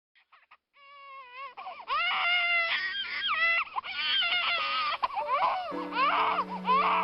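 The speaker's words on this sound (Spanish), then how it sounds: "se escuchó el primer llanto de aquel recién nacido" A newborn baby cries inside a small cabin in Kentucky around five in the morning, with a thin high wail rising into loud sustained sobbing, close and alone, with no talking.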